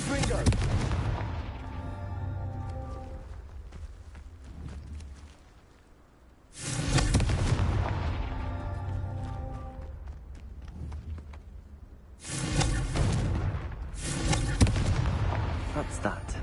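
Three booming fire-spell explosions in Hogwarts Legacy burst out in turn, each a loud crack trailing into a rumbling decay, separated by quieter gaps.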